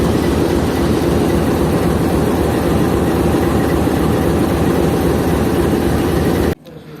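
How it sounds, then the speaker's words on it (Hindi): RGE20 diesel locomotive number 5113 idling at Mach railway station in Pakistan, where coal is being loaded into trucks: a steady, loud low engine rumble drones on without a break, then drops off sharply near the end. "ये खड़ा हुआ हमारा RGE20 लोकोमोटिव 5113"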